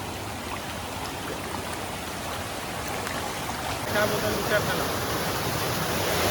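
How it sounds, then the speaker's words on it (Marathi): A muddy, rain-swollen stream beside rice paddies in Alibag rushes steadily nearby, a broad continuous watery roar that swells slightly toward the end, with faint background chatter. "हा आपला ओढा आहे"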